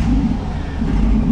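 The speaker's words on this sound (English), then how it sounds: "Little engine fires right up." A 1931 Essex car engine, fitted with a 350 with polished intake and chrome headers, idles loudly and steadily nearby just after starting, a dense low rumble with no talk.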